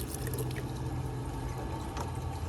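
Water pouring steadily as dirt is washed into a Goldrop gold panning device with Nome sand, a constant close rushing flow with no talk.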